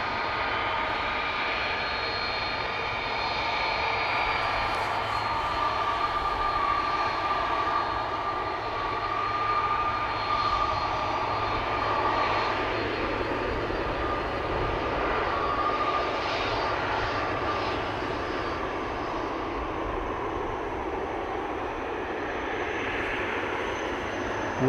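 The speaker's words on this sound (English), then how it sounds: "This is Delta Airlines Flight 91 to Orlando in Florida," A Delta Airlines A330-300 jet departing Amsterdam Schiphol for Orlando, its engines a sustained, loud roar with a whining tone that holds steady across the whole stretch.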